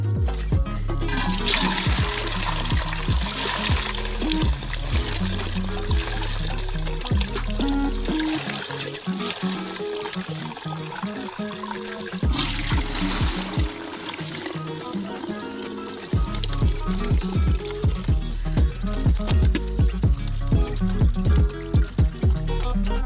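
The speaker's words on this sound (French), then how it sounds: "On y met aussi de la gaze et on filtre le bouillon." Broth is poured through a gauze-lined sieve into clean buckets, a steady splashing, trickling stream that runs loudly and continuously, with a few brief pauses and pulses in flow.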